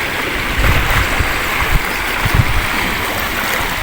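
Choppy water at the mouth of a river where people are fishing, heard as steady broadband wash and lapping with soft low splashes and thumps throughout, fairly close and loud, with no voices.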